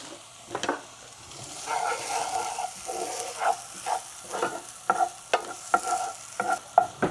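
Shallot fries in olive oil with a soft bubbling sizzle, broken by intermittent scraping and stirring sounds that grow busier toward the end.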